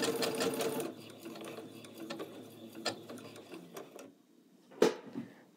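A sewing machine stitches a line of zipper trim, its needle chattering in a steady run for about a second, then quieter intermittent mechanical ticks and clicks with a sharper clack near the end.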